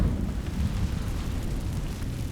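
A roaring burst of the Incendio fire spell in Hogwarts Legacy, a dense low rumble of flame that holds steady and fairly loud for a couple of seconds with no voices.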